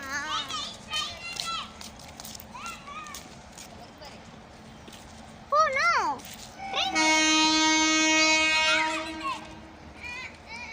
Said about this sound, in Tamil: இங்க பாரு கூட்ஸ்ல ஏத்திட்டு வர வண்டி இதுதான்